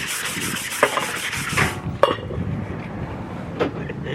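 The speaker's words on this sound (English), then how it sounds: "So we're gonna continue sanding" Hand sanding surface rust from a car body panel, a rasping scrub with bright strokes early on, then quieter rubbing broken by a few sharp knocks.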